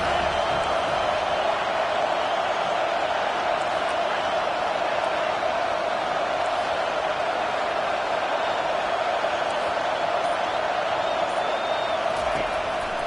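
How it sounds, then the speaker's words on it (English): A stadium crowd in College Football 25 gives off a steady, dense roar of cheering that holds at an even level throughout, with no clear peaks. "this crowd trying to help keep them there"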